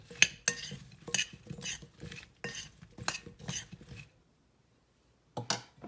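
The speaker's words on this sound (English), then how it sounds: "now we're just going to toss the Brussels sprouts in our mixture" Brussels sprouts being tossed in an oil mixture on a metal sheet pan, giving a run of close, uneven clattering and scraping bursts that stop, then one short final scrape after a pause.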